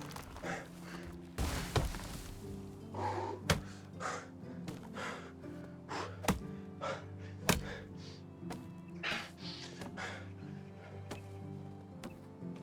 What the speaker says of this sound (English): We need to chop down a couple of these trees.